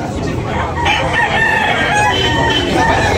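Several roosters crow over a busy, noisy background of clucking and murmuring voices at a Sunday morning chicken market in Tabunok, Talisay, the crows overlapping and carrying clearly.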